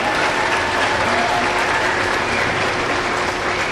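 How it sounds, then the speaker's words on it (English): A graduation audience applauds the Sinte Gleska University faculty, a loud, steady wash of many hands clapping that holds at full strength for several seconds with no voices over it. "Let's give them a round of applause."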